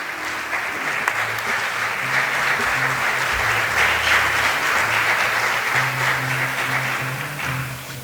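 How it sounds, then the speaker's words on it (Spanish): Warm, sustained applause from the audience at a book presentation hosted by a cultural association in Segorbe, many hands clapping together at a steady, strong level that swells slightly midway and eases off toward the end. "un fuerte aplauso."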